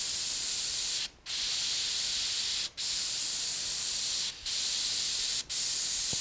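An airbrush sprays paint in a continuous close hiss, held in four long bursts separated by short silent breaks.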